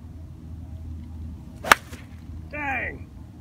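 A golf swing with a new 3-wood ends in one sharp, loud crack as the club strikes the ball, followed shortly by a faint, brief voice against outdoor background noise.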